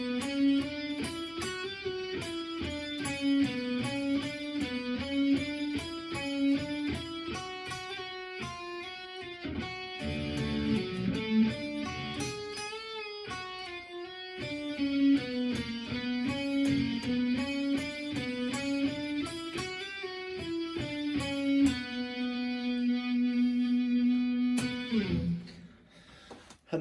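An electric guitar plays the intro riff of a song slowly, a continuous run of clear picked single notes rising and falling in a repeating melodic line, ending on a held note; no talking.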